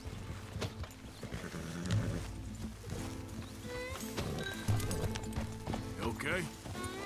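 Horse hooves clip-clopping in the Red Dead Redemption 2 video game, steady rhythmic footfalls at moderate distance beneath almost continuous character dialogue.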